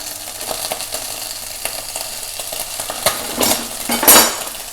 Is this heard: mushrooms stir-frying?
yes